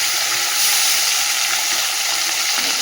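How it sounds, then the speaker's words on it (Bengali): Fish frying in hot oil in a kadai on a stove, a steady loud hiss and crackle of sizzling that holds continuously throughout, with no talking. "এই যে কড়া তো জ্বালিয়ে তেল গরম হয়ে গেছে, এবার মাছ ভাজাটা বসিয়ে দিই।"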